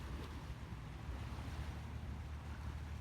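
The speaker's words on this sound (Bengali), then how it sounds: "একটি সমুদ্র।" Ocean waves wash onto a beach at Palawan, with cargo ships and a port nearby, making a soft continuous surf rush mixed with wind buffeting the microphone.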